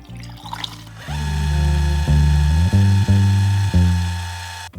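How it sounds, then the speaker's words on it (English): A steady pour of black-and-white film developing solution into a film developing tank, a continuous rushing trickle with a few brief gurgles and bumps, close by and alone. "And now I'm going to pour this in the tank."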